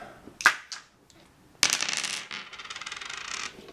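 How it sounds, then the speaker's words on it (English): Two dice for the Final Girl board game are dropped onto a table, a brief click followed by a longer clattering roll that rattles and tumbles for about two seconds before settling. "I believe you start with 2 dice to roll. So let's try that."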